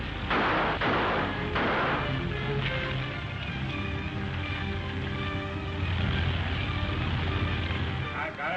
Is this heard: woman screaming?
no